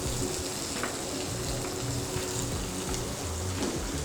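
Small onions frying in oil with fennel for Dindigul mutton kulambu, a steady crackling sizzle with scattered pops and bubbling, close and continuous, no talking.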